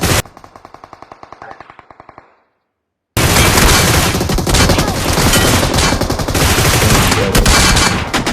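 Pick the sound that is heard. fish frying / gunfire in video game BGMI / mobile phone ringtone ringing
gunfire in video game BGMI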